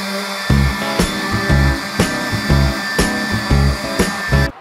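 A power sander with worn pads works the bottom of a sailboat hull, grinding in loud, rhythmic bursts that repeat about once per second, close by with no talking.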